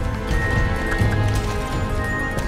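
A horse trots along in the Star Stable riding video game, its hooves making steady, close clip-clop beats over a dense layer of game background sound.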